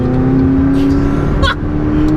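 A McLaren 675LT sports car engine drones loudly and continuously while driving, a steady close hum with a brief rise in pitch partway through.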